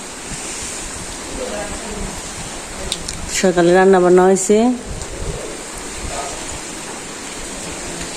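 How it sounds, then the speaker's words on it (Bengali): A sudden rain shower over a Bangladeshi village, a steady broadband hiss that runs the whole time, with a voice speaking briefly over it in the middle. "এই বৃষ্টি এক ঝলকে একবারে না জানি জুড়ে নামলো"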